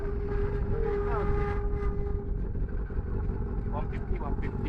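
A Honda Super Four motorcycle engine roars steadily through a burnout, a loud sustained drone with rising and falling pitch, while voices talk over it.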